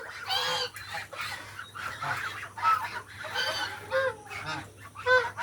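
Several geese honk repeatedly and fairly close, harsh nasal calls overlapping in irregular bursts over a low steady hum.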